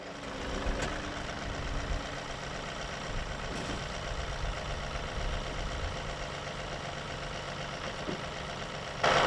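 Steady engine drone of a 37 hp tractor running a Rhino TS10 10-foot flex-wing mower, a constant mid-distance rumble that holds even for about nine seconds with no talk.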